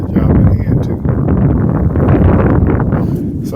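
Loud wind buffeting an outdoor microphone on a goat pasture during fence work, a steady low roar filling the whole stretch with no clear speech.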